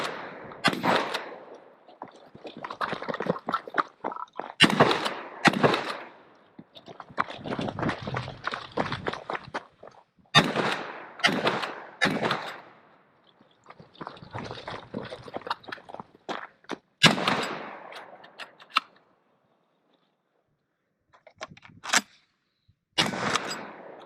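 A Benelli SuperNova Tactical shotgun firing buckshot and slugs, loud booming shots at irregular intervals, each trailed by a ringing echo, with short pauses between groups.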